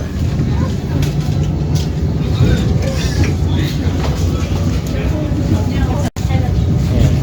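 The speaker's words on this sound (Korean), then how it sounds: "여긴 코레일, 바다 열차." The Korail Sea Train on the east-coast line between Gangneung and Samcheok, South Korea, rumbles steadily along the shore with rhythmic rattling and clatter of the cars, close and loud, while people talk over it.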